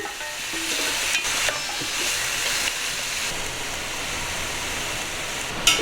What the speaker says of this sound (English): we chuck all the lamb in there and give it some stir fry